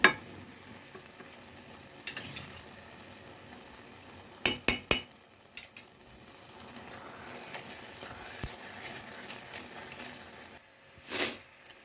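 Carrot halwa with milk powder and ghee being stirred in a pan, a soft scraping and sizzle with a few sharp utensil knocks against the metal partway through.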